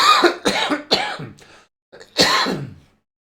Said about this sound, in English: been left with a horrible cough after I recovered from the flu